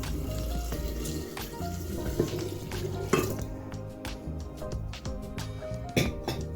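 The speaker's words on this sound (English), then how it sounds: "now we're just going to add our brine to the bottle" Brine poured into a bottle for homemade hot sauce, a steady liquid trickle with faint clinks of glass against a background of household noise, continuing throughout with no talk.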